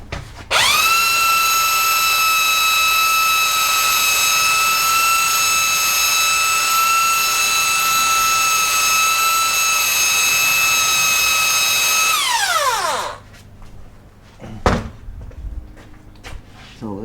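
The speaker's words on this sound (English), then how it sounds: "let's sand the edges of this and make it look good" A power sander runs steadily on the edges of a wooden side wall for a vintage-style wood camper, giving a loud, close, high whine that holds for about twelve seconds, then spins down, followed by a few clunks.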